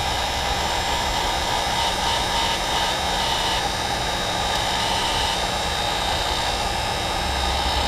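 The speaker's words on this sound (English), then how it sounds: "take your heat gun, put it on low" A heat gun on its low setting blows over carved foam bricks, a steady close whooshing hiss with a low motor whir that holds constant and unbroken throughout.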